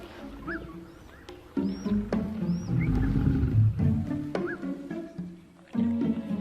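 A lioness and her cubs snarling over food, with low growls and rumbles close by and sharp high squeals from the cubs breaking in repeatedly.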